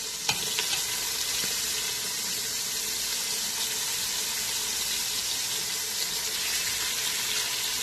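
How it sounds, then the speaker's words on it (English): Close, continuous sizzling and crackling of chicken frying in hot oil, steady and loud throughout with occasional faint clicks. "Love that sizzle."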